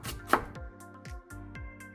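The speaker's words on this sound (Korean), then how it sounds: "당근 3분의 1개를 잘게 썰어주세요." A knife finely chops a third of a carrot on a cutting board for fried rice. The close, crisp chops fall in a quick, steady rhythm with no talking.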